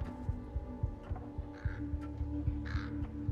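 Crow cawing in the video game Thief, a steady series of close, loud caws in a repeating rhythm with nobody speaking over it.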